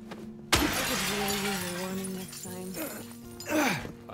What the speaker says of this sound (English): Alright, so I can break that window.